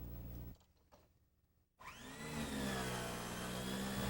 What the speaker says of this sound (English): We'll vacuum a pillow from a very typical home.